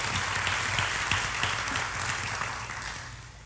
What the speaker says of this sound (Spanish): give the living God a strong round of applause